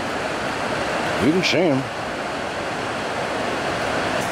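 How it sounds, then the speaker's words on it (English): Steady broadband rush of water flowing somewhere below a hillside, constant and moderately loud throughout, with someone speaking briefly over it partway through. "you can hear the water"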